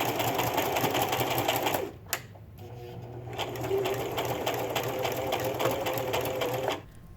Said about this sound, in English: it'll be easier to just sew these on by machine